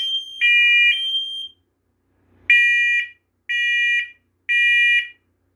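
A First Alert smoke alarm under test emits a long shrill tone, falls silent briefly, then sounds three more loud, evenly spaced beeps close to the microphone.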